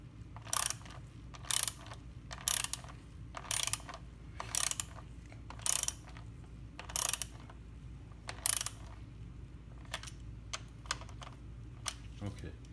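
Ratchet clicks in short regular bursts, about nine strokes, as a Porsche 964 chain tensioner is hand-tightened, close and crisp over a low steady hum.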